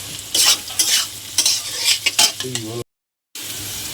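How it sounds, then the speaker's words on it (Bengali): Egg and spices stir-fried in a pan for egg chowmein: a utensil scrapes and stirs in quick bursts over a soft sizzle, with a brief silent gap near the end before the frying noise resumes. "ডিমটা দিয়ে দিলাম, মশলাটা দিয়ে দিলাম, ভালো করে নেড়ে চালটা দিয়ে দিলাম"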